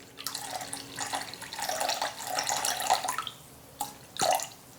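Water poured from a vessel into flour for keto wraps in a kitchen, a steady splashing stream lasting several seconds with brief pauses and a final short trickle, close and fairly loud, no talking.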